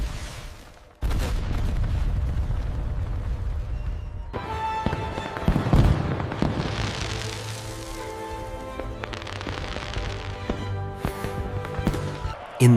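Fireworks bursting in a night sky in an animated cartoon story, a long dense roar of crackling explosions and booms with a loud rumbling swell midway, continuous and close.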